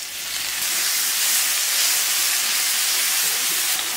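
Garlic slices sizzle in hot oil in a wok, a steady, close, bright hiss that runs on without a break.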